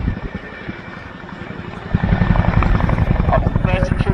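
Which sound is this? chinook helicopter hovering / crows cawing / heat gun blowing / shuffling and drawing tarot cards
chinook helicopter hovering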